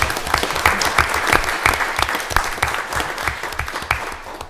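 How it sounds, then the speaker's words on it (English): A round of applause for a speaker named Jonathan at a State House hearing on a police training bill, steady dense clapping from an indoor audience that holds loud and even throughout. "How about a round of applause for Jonathan?"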